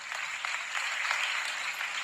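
An audience at a DXN event applauds the gurus with dense, steady clapping from many hands, moderately loud and sustained throughout.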